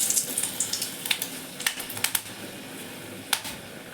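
Two dried red chillies temper in hot oil in a kadai while brinjal puli kuzhambu is being made, giving a soft steady sizzle broken by scattered sharp crackles and pops, close and with no one talking.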